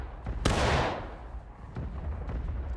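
A rifle shot fired into the air in the War of Rights video game, one sharp crack with a long rolling echo, followed by fainter distant shots, moderately quiet.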